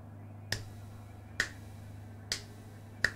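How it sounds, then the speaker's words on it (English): Four sharp hand claps behind a microphone, evenly spaced and fairly faint, each a single crisp crack over a low steady hum. "I'm going to clap behind my microphone."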